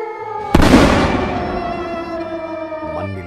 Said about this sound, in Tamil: ஆணவச்சிரிப்போடு சீரிப்பாயும் வெடி ராக்கெட்டுகள்